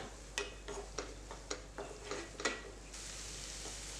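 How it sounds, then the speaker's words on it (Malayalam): Sautéed onions stirred in a pan while making crab curry: a series of soft scraping strokes roughly every half second over a steady sizzle, close by, with no talk. "ഇപ്പോൾ സവാളയൊക്കെ നന്നായിട്ട് റെഡിയായി കിട്ടിയിട്ടുണ്ട് ഒന്ന് മിക്സ് ചെയ്യാം"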